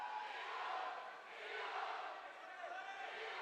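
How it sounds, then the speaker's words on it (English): Crowd noise from the stands at a high school boys' hockey state championship game, a steady broad roar that swells and dips slightly, heard from a distance with no clear voices on top. "you can hear the crowd getting into it above us"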